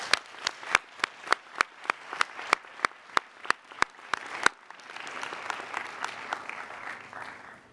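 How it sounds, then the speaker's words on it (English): Applause at a college convocation ceremony opens with slow, evenly spaced rhythmic claps in unison, then breaks into a softer, diffuse wash of clapping from the crowd. "Let's give them a round of applause."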